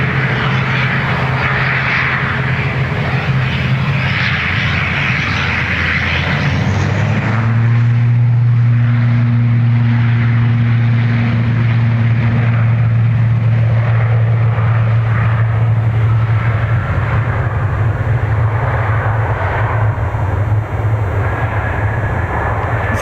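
Jet engines roar loudly at Dublin Airport as a plane bound for Birmingham departs on a single runway, a sustained deep drone with a steady low tone that holds and swells, heard close with no talk.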